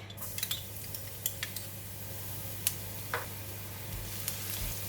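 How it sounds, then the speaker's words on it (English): Garlic frying in about two tablespoons of hot cooking oil while a pork belly and pumpkin stir fry is cooked, a low steady sizzle with a few light clinks of a utensil against the pan. "I'm going to fry the garlic"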